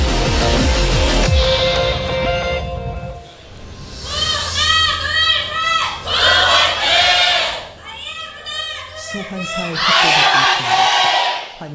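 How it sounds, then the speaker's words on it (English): A crowd of fans at a League of Legends esports match cheers for Incredible Miracle in loud chanting bursts, rhythmic rising shouts that come in several waves separated by brief lulls, following an opening stretch of other noise. "Big cheers from the IM crowd today."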